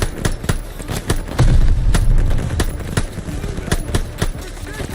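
Machine gun fire in the World War II shooter Call of Duty: Vanguard, loud sharp bursts and single shots cracking in irregular rhythm, with a heavy rumbling boom swelling partway through.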